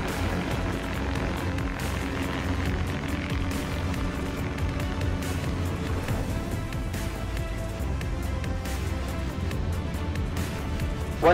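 A steady, loud roar of multiple propellers as an AutoFlight Prosperity I electric air taxi lifts off, a dense continuous whir holding evenly throughout with no pauses.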